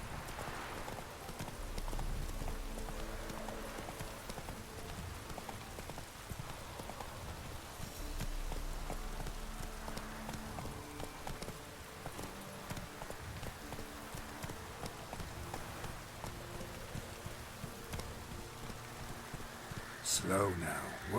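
The horse Roach gallops at a steady rhythm in The Witcher 3, its soft, continuous hoofbeats running under faint rain-like ambience and game music, with a voice speaking briefly over them.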